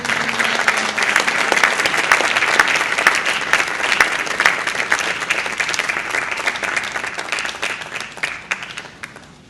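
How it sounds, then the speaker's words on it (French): Applause from a ceremony audience for members of the government, a dense sustained clatter of many hands that tapers slightly toward the end. "On applaudit les membres du gouvernement sous vos ovations"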